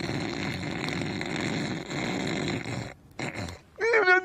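A person mimics heavy snoring with a long, steady rasping drone that breaks off briefly, then resumes. A short vocal sound follows at the end.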